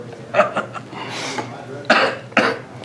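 A few short, breathy bursts open the clip, followed by two sharp, close coughs near the end.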